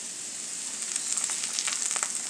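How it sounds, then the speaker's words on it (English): Mushrooms fry in a pan, giving a steady, close sizzle with light crackles that thicken toward the end, and no voices. "Cook the mushroom first."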